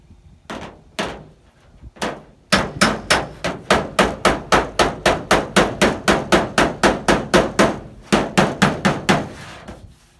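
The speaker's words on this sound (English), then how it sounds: "Bigger faced hammer." A few scattered hits give way to a fast, even run of loud strikes from a bigger-faced hammer on a dolly against a Dodge Challenger roof panel, close up, pausing briefly before resuming.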